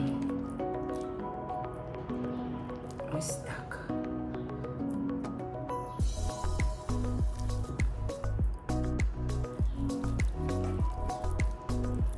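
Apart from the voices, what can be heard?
shaping minced fish patties with wet hands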